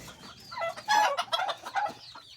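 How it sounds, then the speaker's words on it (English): Chickens and roosters in a backyard coop with young red chicks nearby, a rooster's crow-like call and overlapping clucks rising and falling close by, busy and fairly loud over a quiet background. "We've got 4 roosters now, maybe more"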